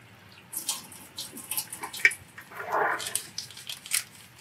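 Water running from a Vesta alkaline water machine on its highest setting into a container, an irregular splashing and gurgling stream that swells and fades in short bursts.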